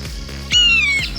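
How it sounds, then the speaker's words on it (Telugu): A single sharp, shrill parrot squawk rings out close by, brief and loud, over a quiet musical background. "అప్పుడు అక్కడికి చిలుక ఎదుర్కొంటూ వచ్చింది"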